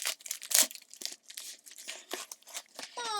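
Crinkling and tearing of a shiny envelope being opened, a sharp rip near the start followed by scattered rustles and crackles of the glossy material, close and fairly quiet.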